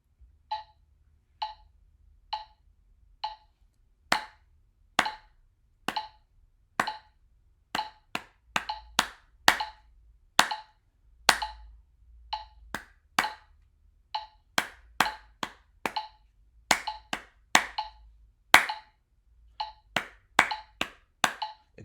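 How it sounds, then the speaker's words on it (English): Four steady metronome clicks lead in, then hand claps beat out a notated four-four rhythm of quarters, eighths and a dotted quarter over the continuing clicks, crisp and close in a quiet room. "We listen to the clicks from the metronome, but then we clap the rhythm that is notated."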